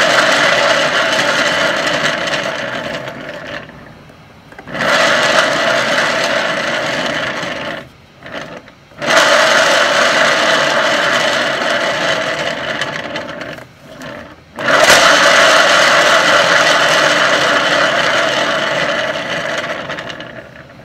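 A spinner turns a paint-pour canvas using the bloom technique with water and Amsterdam paint and cell activator, making a loud, close mechanical whir in three long runs broken by brief stops.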